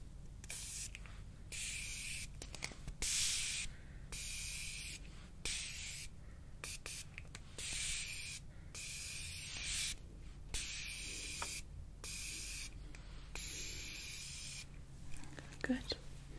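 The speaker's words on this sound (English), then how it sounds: "Okay, I'm gonna be spraying you." A spray bottle mists water onto hair during a haircut, with repeated short crisp hissing bursts spaced a second or so apart, close and soft, alongside quiet whispered talk.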